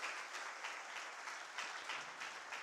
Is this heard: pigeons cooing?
no